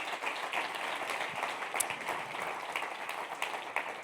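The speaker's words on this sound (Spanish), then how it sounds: "dale un aplauso muy fuerte" Church congregation applauding during a sermon, a fairly soft, steady patter of many hands clapping at a distance without interruption.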